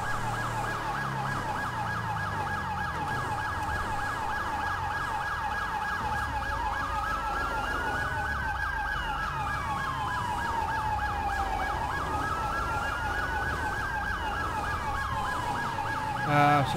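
Police vehicle siren running code 3 during a dump truck chase: a loud, continuous wailing siren that sweeps up and down steadily, with a second siren tone crossing it and road noise underneath.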